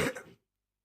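A single short, dry cough sounds in a digestion video game prototype, then cuts to silence.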